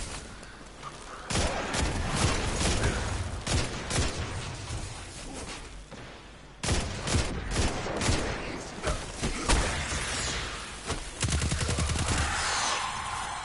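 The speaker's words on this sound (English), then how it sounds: "Again, grenade launcher, sniper rifle combo." Heavy bursts of weapon fire in Destiny 2, with booming grenade launcher blasts and sharp sniper rifle shots repeating in clusters amid loud combat noise, separated by brief quieter lulls.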